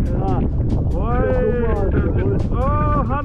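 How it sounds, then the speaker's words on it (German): Strong, gusty wind blows outdoors, a loud steady rush buffeting the microphone while people talk over it. "Hannes, fliegt weg, weil der Wind so heftig ist"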